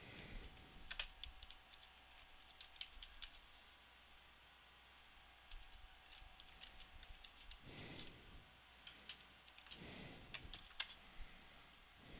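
A computer keyboard clicks steadily as someone types while modding Minecraft, soft rapid keystrokes going on throughout against faint hiss, with no one speaking.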